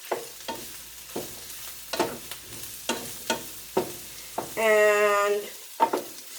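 Half a pint of thinly sliced mushrooms stir fry in a pan, with sharp, regular spatula scrapes about once a second over a soft sizzle and a brief tonal hum midway.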